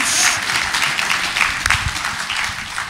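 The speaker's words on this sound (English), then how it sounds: "That deserves a round of applause." A room full of people applauding, dense overlapping clapping that swells and fades slightly, fairly loud and close.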